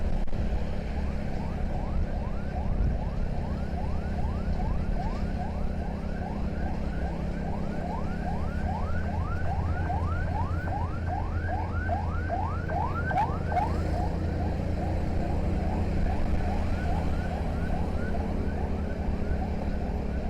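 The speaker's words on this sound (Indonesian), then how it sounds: "ada ambulan." An ambulance siren yelps in a rapid repeating sweep, moderately distant, over a steady hum of road traffic on the Kendal–Semarang coastal highway, with no talking.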